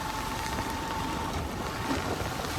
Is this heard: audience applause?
no